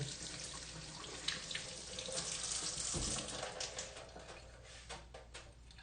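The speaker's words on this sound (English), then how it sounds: "But I washed my hands before, so wash my hands again." Tap water runs in a kitchen sink while hands are washed underneath it, a steady splashing rush with shifting bursts as the hands move through the stream.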